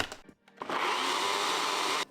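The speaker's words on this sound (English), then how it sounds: "So that blender just broke, so I'm using this one." A replacement kitchen blender whirs loudly and steadily for over a second while blending a garlic, lime juice, sugar, salt and chicken stock sauce, starting abruptly after a short pause and cutting off sharply.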